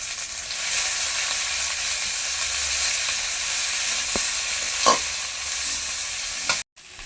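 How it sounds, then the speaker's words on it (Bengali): Onion and garlic paste frying in oil for a Bangladeshi prawn fritter curry gives a steady, close sizzle, with a couple of brief stirring scrapes and a short cut near the end. "পেঁয়াজ আর রসুন ভালোভাবে ভাজা হয়ে গেছে"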